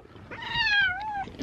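A cat gives a single drawn-out meow, close and clear, rising and then slowly falling in pitch over about a second in a quiet room.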